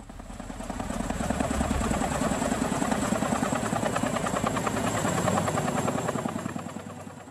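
A U.S. military CH-47 helicopter in flight, its rapid rotor thumping swelling in, holding loud and steady, then easing off at the end, with no voices.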